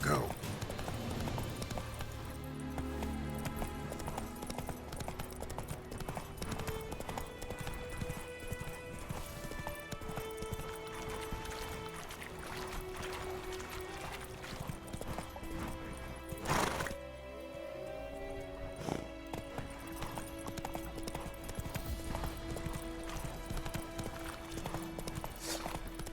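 Roach, the horse in The Witcher 3, gallops with steady clip-clop hoofbeats and gives a whinny, set against busy game music and ambience, with a voice speaking over it.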